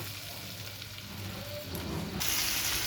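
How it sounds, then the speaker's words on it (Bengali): Onion, garlic and ginger fry in hot oil with a steady close sizzle that swells louder and brighter toward the end. "এখন ভেজে নিচ্ছি পেঁয়াজ রসুন আদা"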